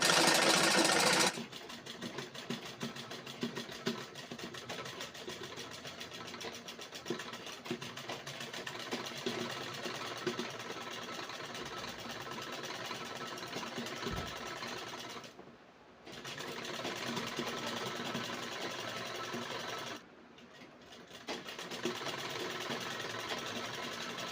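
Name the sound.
sewing machine stitching lehenga fabric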